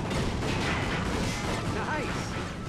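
Dense, continuous gunfire and crashing blasts from the co-op video game Ratchet & Clank: All 4 One, loud and unbroken throughout, with a voice briefly audible beneath the barrage.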